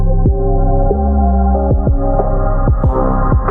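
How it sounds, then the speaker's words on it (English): Looping electronic music beat with a steady low throb and recurring sharp hits, its tone swept by an EQ filter so the sound thins out and then returns to full, played loud throughout with no talk. "like changing the EQ, how it sounds, so that it sort of, comes back to normal and sort of goes away and comes back"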